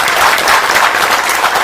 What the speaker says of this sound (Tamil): கண்டிப்பாக அதற்கு ஒரு பெரிய கைத்தட்டல் ஜெய் பேபிக்கு.